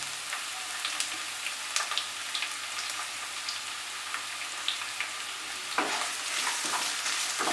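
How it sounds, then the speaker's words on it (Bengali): Chopped onions sizzle in a pan of fried ginger and garlic over low heat, a soft, steady frying hiss with occasional crackles and a brief stirring scrape near the end. "পেঁয়াজটা ভাজতে সময় লাগবে কিছুক্ষণ"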